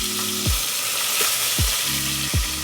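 Crushed garlic and spices fry in hot oil for a rasam, giving a loud, continuous sizzle close by, with a few low whooping tones sweeping down underneath at intervals.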